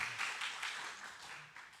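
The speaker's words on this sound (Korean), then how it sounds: "참 잘한다고 박수 한번 해주세요" A church congregation applauds the drummer during a Sunday morning service, a faint, steady patter of many hands clapping with no voices over it.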